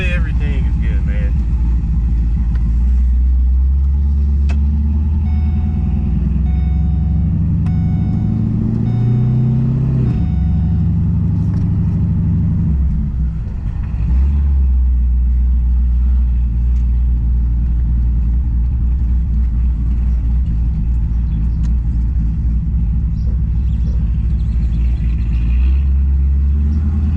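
A Pontiac G8 GT V8 with a stage 2 cam drives on the road, its deep engine rumble steady and loud inside the cabin, rising as it accelerates, with voices talking over it.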